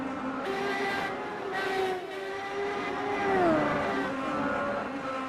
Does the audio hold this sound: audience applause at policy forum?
no